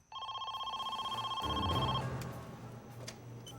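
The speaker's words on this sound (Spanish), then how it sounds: "Más tarde esa noche sonó el teléfono." An old-style telephone bell rings in steady repeated bursts for about two seconds, loud and close, then fades into a low background hum, in a true-crime reenactment about a kidnapped millionaire's daughter.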